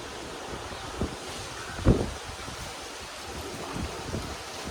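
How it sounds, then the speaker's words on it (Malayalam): Strong wind rushes across an open outdoor spot, a low buffeting roar with microphone gusts and one sharp blast near the middle, no speech. "നല്ല കാറ്റ്."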